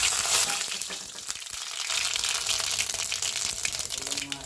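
Potatoes, onion, green chillies, cumin and mustard seeds go into heated oil in a village kitchen, giving a steady close crackling sizzle with bursts of spattering throughout.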